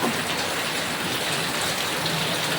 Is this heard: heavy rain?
yes